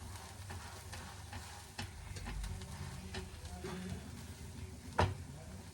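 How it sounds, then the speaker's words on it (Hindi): Semolina roasting in a dry pan, pressed down as it cooks, gives a faint continuous sizzle with scattered soft scraping taps and one sharper knock near the end. "थोड़ा मैं दबा दबा के सेक रही हूँ ताकि जो सूजी है वो अंदर तक सिक जाए"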